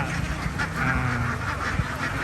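A large flock of young ducks on a commercial duck farm in Kalasin, Thailand, produce a dense, continuous din of overlapping quacks, close and steady with no talk.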